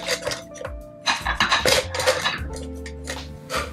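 Camping cookware being handled: frying pans and a pot clank and clink together in several close, irregular bursts, metal rattling against metal with no talking.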